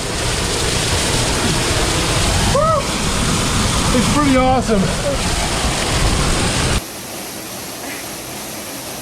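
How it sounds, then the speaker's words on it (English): A waterfall roars from just behind the falling curtain of water on a Southern California hike, a loud continuous rush that drops sharply quieter near the end, with excited voices talking over it. "This is the first waterfall I've ever been behind."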